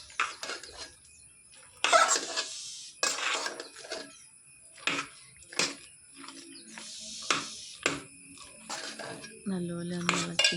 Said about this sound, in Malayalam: നല്ലപോലെ ഒന്ന് ഇളക്കി കൊടുക്കുകയാണ്.